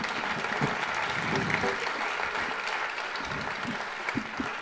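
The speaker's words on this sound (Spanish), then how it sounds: "no pido un aplauso para mí, pero sino para el gran Juan Antonio Lorente" An audience at a solidarity festival applauds a guitarist, with steady, moderately loud clapping from a crowd throughout and a few sharper claps near the end.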